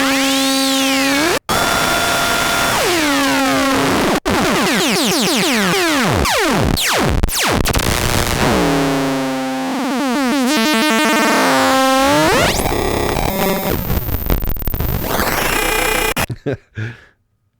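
A Korg Monologue synthesizer playing sync and ring modulation sounds, loud sweeping harmonic tones that bend and glide, shift into metallic, dissonant textures, then cut off to silence at the end.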